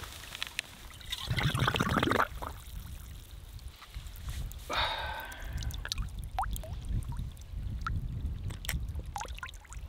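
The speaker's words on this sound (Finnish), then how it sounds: "Ja tosta lähtee vaan tällainen puro." A small mountain brook trickles in the wilderness of Hammastunturi on a midnight-sun hike, giving a steady watery babble with a few brief rushing surges and scattered drips throughout.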